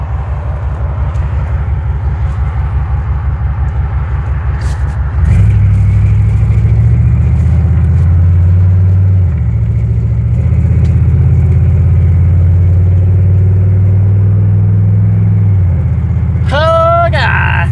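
A pickup truck engine drones low and steady while driving, loud and close, with a shift in tone partway through and a short rising whine near the end; a voice is faintly present.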